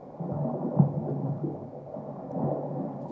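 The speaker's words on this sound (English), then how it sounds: "could sound like breathing underwater, like letting bubbles go" Water sound effect passed through a low-pass filter, giving a muffled, rumbling wash of bubbling like breathing underwater, with soft swells and one brief thump, continuous and close with no talking.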